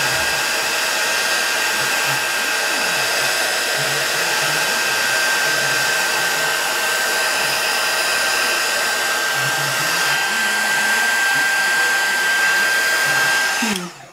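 A hair dryer blows a loud, constant whooshing hum for about fourteen seconds while drying an altered magnifying glass craft project, cutting off abruptly at the end.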